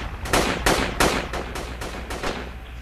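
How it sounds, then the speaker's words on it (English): Automatic rifle fire in Project Reality, a military shooter game: several loud, sharp bursts of rapid shots in a fairly even rhythm, close by, with no voices. "Whoa, AR shooting"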